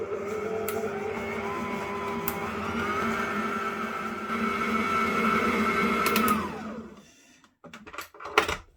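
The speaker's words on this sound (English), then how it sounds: "put this in the mixer for a few seconds" An electric mixer whirs steadily through a coffee and walnut cake mixture for about six seconds, its pitch holding close to even, then winds down as it is switched off. A few clunks and knocks follow.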